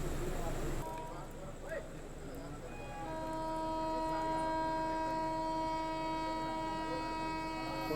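The Sanghamitra Express passenger train rumbles along steadily with a long horn blast near the middle and end, while people talk in the carriage.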